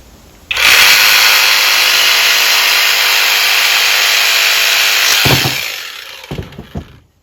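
A jigsaw cuts a window panel board for a campervan, starting abruptly and running loud and steady for about five seconds before winding down with a few knocks and clatters of the board.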